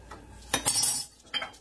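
A utensil stirs beans in a cooking pot at a boil, giving a few close metallic scrapes and clinks against the pot in two quick bursts.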